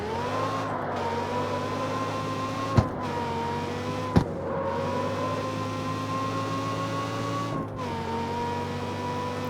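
An engine-swapped race car circles the forward track course in the CarX racing game, its engine holding a steady, buzzing multi-toned drone that dips and rises slightly, with a couple of sharp clicks and brief gear-shift breaks, with no talking.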